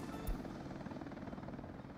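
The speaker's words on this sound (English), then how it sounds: "So, purchase a helicopter. MI8." Steady, throbbing rotor and turbine drone of a Mi-8 helicopter in the video game Roundtable Taiga, a continuous low mechanical rumble heard at moderate level with no speech.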